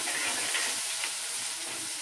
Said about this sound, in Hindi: अब छोटा छोटा बारीक कटा हुआ प्याज, प्याज को थोड़ा सा ब्राउन होने तक हम भून लेंगे।